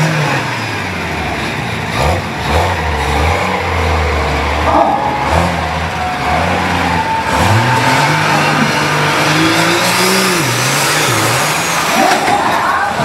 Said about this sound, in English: you can hear everything working on that truck with how quiet that engine is